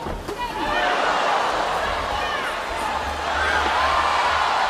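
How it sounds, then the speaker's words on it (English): A boxing crowd at a professional fight oohs and ahhs in a sustained, dense wash of murmuring voices, with a commentator talking over the arena noise throughout. "the crowd's oohing and ahhing"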